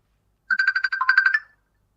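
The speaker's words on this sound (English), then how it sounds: "Oh, I've got a wee phone call coming here." A mobile phone ringtone for an incoming call trills in two quick bursts of rapid electronic warbling, close and fairly loud, with silence before and after.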